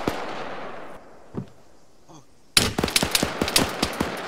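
Gunshots ring out, first a few scattered distant cracks over quiet background, then a sudden close burst of rapid, loud shots firing in quick succession.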